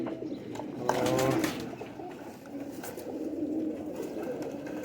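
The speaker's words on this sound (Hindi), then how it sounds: "आपको वो कबूतर दिखाएंगे जो प्योरली साजी सेल करने के लिए दिखा रहे हैं" Pigeons kept for sale coo nearby, one clear rolling coo standing out amid softer cooing and rustling from a flock, with a brief spoken word in the background.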